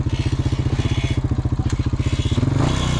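An old Honda four-wheeler engine revs hard and rhythmically while doing wheelies in mud, its loud, pulsing exhaust chugging close by before rising into a higher roar near the end.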